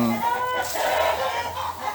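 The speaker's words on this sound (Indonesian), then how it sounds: "ini kan ayam saya nih berbunyi ini" Chickens cluck close by in an Indonesian yard, a steady run of short calls over a low hum with faint background noise and no talk.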